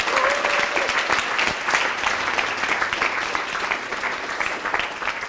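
A dense, loud round of audience applause at a coding bootcamp demo day in Montréal, continuous and full from start to finish, with a brief voice near the beginning.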